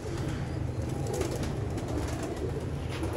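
Pigeons cooing in a loft, soft repeated coos blended into a steady murmur of a flock nearby, with faint chirps and no speech.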